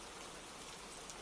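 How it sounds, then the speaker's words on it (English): Rain falling in an evening downpour, a continuous close hiss of drops spattering on surfaces with no breaks or voices. "Ugh, I don't like rain at all. Why does it have to rain?"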